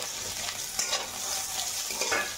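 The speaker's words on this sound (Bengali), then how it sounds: "আমি ভাজি হচ্ছে আলু আর পেঁয়াজ একসঙ্গে ভাজা ভাজা করে নিচ্ছি।" Potatoes and onions frying together in a home pan give a steady, close sizzle with occasional stirring scrapes and no talk.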